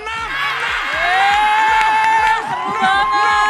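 A crowd of people claps in quick rhythm while many voices shout and cheer together at close range, loud and continuous throughout.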